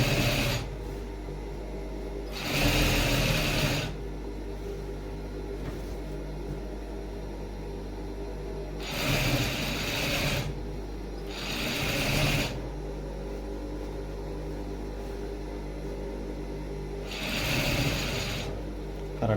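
Sewing machine stitching piping onto both sides of a shirt, three separate bursts of steady mechanical whirring, each lasting about a second, with a low hum filling the quiet stretches between them.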